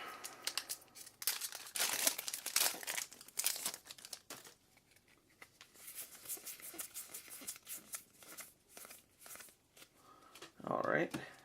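Foil wrapper of a Journey into Nyx trading card booster pack being torn open and crinkled, bursts of crisp rustling and crackling, then quieter handling of cards with a sharper crinkle near the end; no talking.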